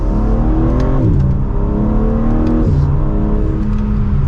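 A 2024 BMW M3 Competition with all-wheel drive accelerates hard in sport mode in second gear, engine loud and close from inside the cabin, revs climbing steadily with a brief shift dip, no talk.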